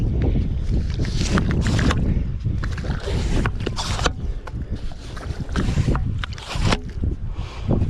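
Strong wind buffets the microphone outdoors on a saltwater shore while bait is being dug, producing loud gusting rumbles and bursts that rise and fall throughout.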